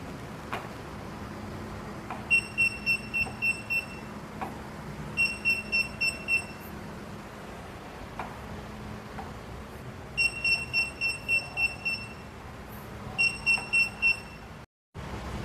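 A sensor cane for blind people, which sounds an alarm when it detects an object within about 100 centimetres, gives off clear, high electronic beeps in four quick bursts, each a rapid string of pulses, with short gaps between and no talking.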